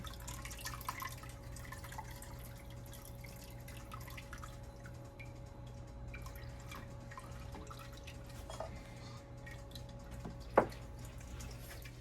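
Whey drips quietly from cheese curds sitting in a colander, faint steady trickling and drips under a low hum, with one sharper clink near the end.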